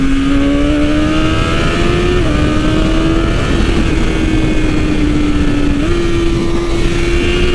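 A 2020 BMW S1000RR engine roars steadily at speed with loud wind rush, its pitch stepping up and down as the auto-blipping quickshifter works through gears.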